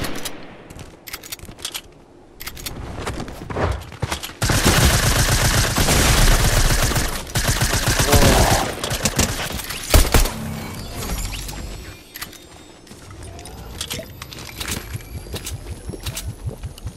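Loud automatic gunfire in Fortnite comes in a long dense burst, followed by scattered sharper single shots, with no voices over it.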